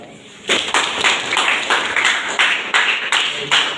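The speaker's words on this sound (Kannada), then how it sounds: "ಚಪ್ಪಾಳೆ ಹೇಳಿ." An audience claps after a stage dialogue performance, steady applause of many hands starting abruptly and continuing loud and close with uneven pulses.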